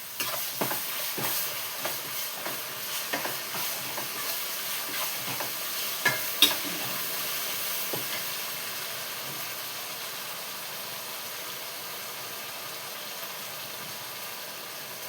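Potato fry with ground masala sizzling in a pan. Several scraping stirs come first, then a steady low hiss of frying continues on its own.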